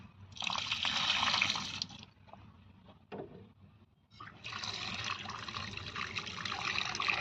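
Karonda fruit being washed in water, with close splashing and rinsing bursts that stop for a couple of seconds, then resume as a steady trickle and slosh, no talk.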